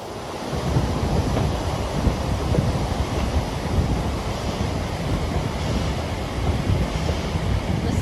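The Animas River rushes beside the Durango & Silverton mountain railway in Colorado, a continuous broad wash of flowing water mixed with wind, steady and fairly loud throughout with no voices.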